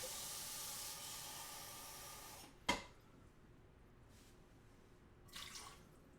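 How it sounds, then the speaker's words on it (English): A half cup of water is poured into a sweet-and-sour barbecue sauce mix with apple cider vinegar, giving a steady hissing pour for a couple of seconds, then one sharp clack and a brief, fainter rush. "We're going to do a half a cup of water."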